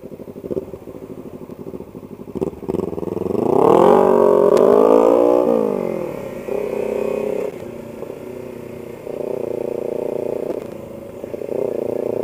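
A Kawasaki Ninja 300 motorcycle ridden through a park loop near Buffalo hums loudly, rising in pitch as it accelerates and then settling into steady cruising with gear changes.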